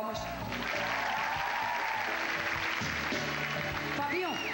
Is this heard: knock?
no